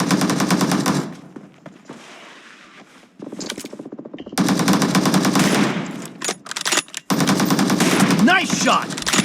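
Rapid automatic gunfire bursts in the video game PUBG come loud and close, broken by short pauses, with a voice speaking briefly.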